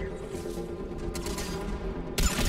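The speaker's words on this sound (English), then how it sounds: "this is easily one of my favorite fucking assault rifles in game" Assault rifle fire in the sci-fi shooter Mass Effect 3, a rapid steady rattle of automatic shots under game noise, ending in a sharper loud burst.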